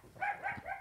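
A dog barks a few times indoors in the background, soft and somewhat distant, three short yips spaced across a brief moment.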